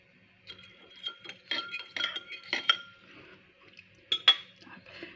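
A spoon clinks against a dish while stirring paste into about 180 grams of boiled water, making light scraping and chinking taps in an irregular rhythm, close and fairly quiet.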